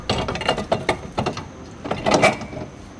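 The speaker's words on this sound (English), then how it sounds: "removing the 3 nuts located on each side using a 15mm socket or wrench" A 15mm socket turns the bumper beam nuts off a vehicle during a trailer hitch install, giving short ratcheting clicks and metallic turning sounds in a few quick bursts, close and fairly clear with no talking.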